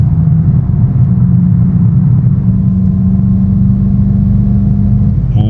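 A 2024 VW GTI, rebuilt after a crash, drives with a loud, steady low engine drone and rumble from inside the cabin, holding a sustained tone.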